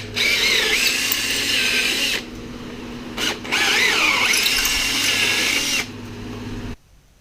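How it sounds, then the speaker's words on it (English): A power drill bores into metal clamps in two long, loud whining bursts with a brief pause between, the motor pitch wavering under load before winding down and stopping. "We had to do a little bit of drilling to go to the next size up"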